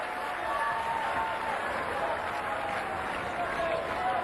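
A tennis crowd applauds at a 2013 Dubai women's match, steady dense clapping from a large arena audience that holds at an even level for the whole stretch.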